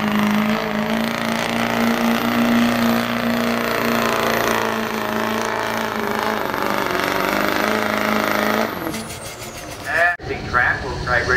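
A Duramax diesel truck at a work stock truck pull at the 2012 Indy Diesel Nationals drones loudly and steadily for several seconds, then cuts off abruptly, leaving a crowd and an announcer talking over it.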